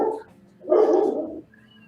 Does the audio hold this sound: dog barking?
yes